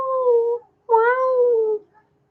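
A house cat eager to go outside gives two drawn-out, insistent meows close by, separated by a short pause, with no other sounds.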